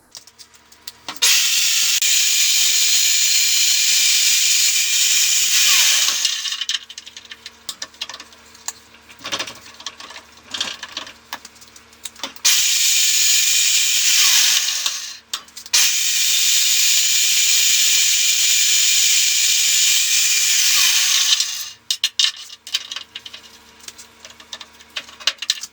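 Stick welding with a 7018 electrode on a home improvement job, steady crackling, hissing arc sizzle in long bursts of several seconds, separated by quieter pauses with clicks and small handling noises.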